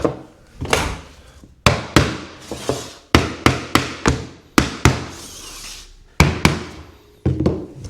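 A knocking block is tapped against laminate floorboards to seat the joints, giving a series of sharp, close knocks in irregular bursts with brief pauses between them.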